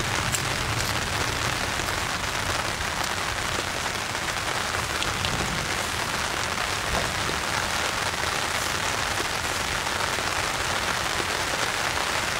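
Heavy rain pours down in a constant, even roar of drops, loud and close, with no talking.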